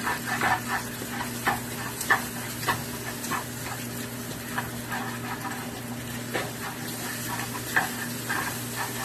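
Eggs for shrimp and chicken fried rice cooking in a pan, a steady close sizzle with repeated scraping and stirring taps of a utensil against the pan.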